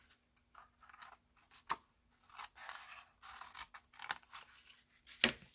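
Scissors snip through paper in short bursts for a folded paper treat chest, several crisp cuts separated by pauses, with a sharp close snip near the end.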